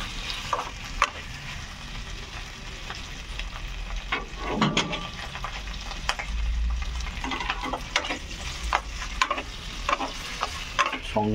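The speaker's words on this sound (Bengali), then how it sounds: "মিনিট দুয়েক তিনেক নাড়বেন।" Food sizzles and fries in a pan while a utensil stirs it, scraping and clicking at irregular intervals over a steady crackling hiss, close and fairly loud, with no voices.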